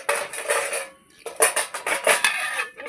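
Metal cooking pot being covered with its lid while cooking jackfruit, with clattering knocks and scraping of pot and lid in several bursts across a few seconds, close and fairly loud, no talk.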